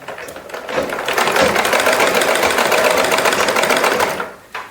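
A sewing machine stitches fabric for a shimmi garment, a fast, even mechanical whir that starts up, runs steadily for several seconds close by, and then slows to a stop.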